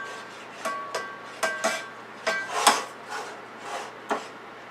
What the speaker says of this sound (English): We're going to put some sauce in the bottom of the pan.